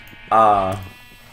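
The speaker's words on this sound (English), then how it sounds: "I just want to breed my cows while I'm talking." A cow in a video game gives a single short, nasal bleat-like moo, loud and up front over a steady low hum.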